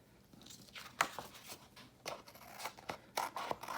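Paper edges being trimmed with scissors during a kindergarten line collage, heard as a series of close crisp snips and crunchy cuts at an uneven pace.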